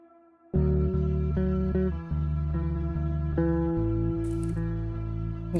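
Layered synth notes smeared together by hybrid reverb into one big sustained chord, panning from left to right, with the chord shifting several times and a bright airy burst near the end. No voices.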